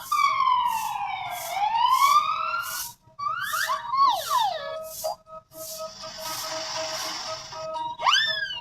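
A black police car siren sounds loud and close, with no other sounds around it. It cycles through sweeping wails, quick yelps and a steady tone before rising again.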